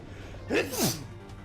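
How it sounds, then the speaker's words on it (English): A single close sneeze, a quick sharp inhale followed by an explosive burst, loud against quiet room tone, with nobody talking during it. "Excuse me, I sneezed."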